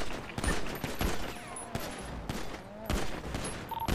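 Close, loud bursts of gunfire in a Grand Theft Auto V NoPixel roleplay shootout, with sharp shots in irregular clusters. Faint chatter sits underneath the shots.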